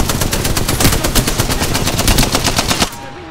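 Rapid automatic gunfire in Apex Legends, a loud, close, evenly spaced burst of shots lasting nearly three seconds before cutting off abruptly into quiet.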